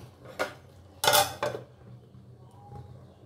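A metal lid is set onto a cooking pot of bottle gourd curry, giving two or three close clanks, the loudest in the middle, followed by a faint quiet ringing.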